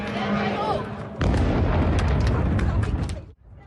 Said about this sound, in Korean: 굉음에 이어 폭발음이 들리고